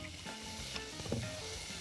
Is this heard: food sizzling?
yes